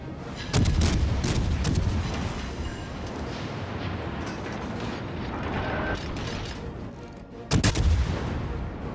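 Naval gunfire from warship shells in the World of Warships Legends game, a rapid string of sharp mechanical firing bursts with loud salvos near the start and again near the end, over steady battle rumble.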